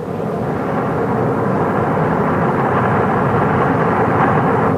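Cessna 172 light aircraft engine as a radio drama sound effect, a steady loud rumbling drone with no gaps and no voices over it.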